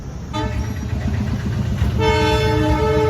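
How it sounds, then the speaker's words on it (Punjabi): A loud train rumbles close by as it pulls into a station, with a long horn blast sounding over the rolling noise of the wagons. "ਦੋਸਤੋ ਟ੍ਰੇਨ ਵੀ ਆ ਚੁੱਕੀ ਆ"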